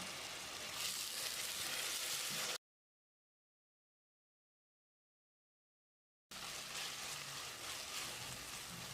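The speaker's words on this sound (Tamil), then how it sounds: "2 தக்காளி பொடியாக நறுக்கியிருக்கேன், இதை போட்டு வதக்கிடலாம்." Steady hissing sizzle of chopped tomatoes sautéing in a hot pan, cutting out to silence for a few seconds before the sizzling resumes.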